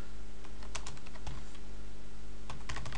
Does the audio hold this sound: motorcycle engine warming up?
no